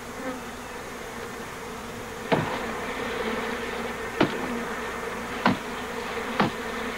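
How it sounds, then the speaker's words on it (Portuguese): A honeybee swarm hums in a steady, dense drone, with a few sharp clicks or knocks punctuating the buzzing; no voices. "abelhas migram em busca de locais para se fixarem, enxames de forma indefinida como este são comuns"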